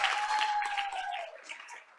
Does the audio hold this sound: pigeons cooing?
no